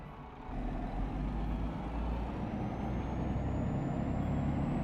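A steady, low truck engine in Euro Truck Simulator drones throughout with a rising whine, synthetic and even, like a game vehicle cruising along.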